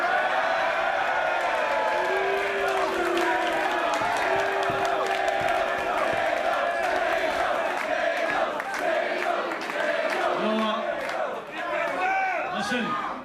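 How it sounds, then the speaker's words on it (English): A large crowd at an Insane Championship Wrestling show jeers and shouts at a wrestler, sustained loud voices with drawn-out boos and yells filling the venue, swelling and thinning slightly toward the end. "some of you are booing this guy"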